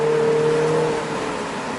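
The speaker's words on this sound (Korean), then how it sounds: "100km는 이 정도 바람이 들어오는 소리가 들려요" Wind rushing into an open-top BMW Z4 20i soft-top roadster cruising at 100 km/h, a steady broadband roar with engine and road hum underneath, loud and continuous with no talk.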